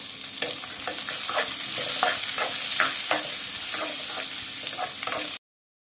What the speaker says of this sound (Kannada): ಇಲ್ಲಿ ಈರುಳ್ಳಿ, ಬೆಳ್ಳುಳ್ಳಿ, ಹಸಿಮೆಣಸಿನ್ಕಾಯಿನ ಚೆನ್ನಾಗಿ ಕೆಂಪಗಾಗೋವರೆಗೂ ಹುರ್ಕೊಂಡಿದೀವಿ